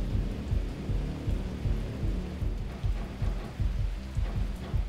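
Steady heavy rain in the platform video game David Get Keen, a constant dense patter with rhythmic low thumps pulsing underneath and no voices.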